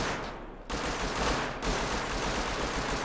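Gunfire in the video game Rust, a steady rattling stream of shots heard at a distance, fairly quiet, after a short pause at the start and with no talking.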